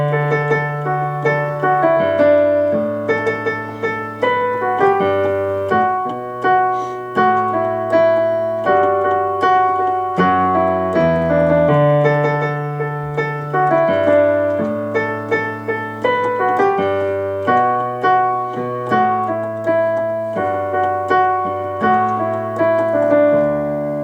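Solo piano plays the chorus of a song, steady chords under a clear melody that resolves toward D, loud and close for about twenty-four seconds with no voices.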